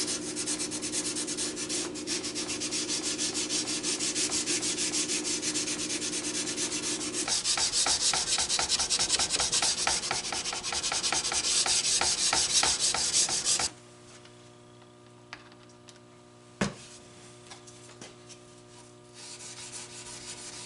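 Steady abrasive rubbing of hand sanding on a steel hidden-tang bushcraft knife blade worked up to 600 grit, a continuous close scratchy stroking that stops partway, followed by a few faint knocks.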